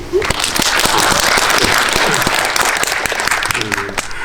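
An audience at a movie guest-visit screening claps together, filling a packed cinema hall with a loud, sustained round of applause from start to finish, with faint voices mixed in.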